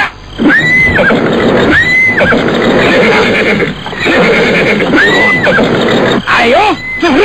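Horses neigh and whinny several times in a row, loud and close, with a clip-clop of hooves beneath, while people talk and shout over them in a dramatic scene.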